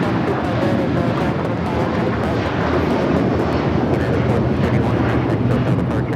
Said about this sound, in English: Here we have United Airlines 1431 taking off to Honolulu on the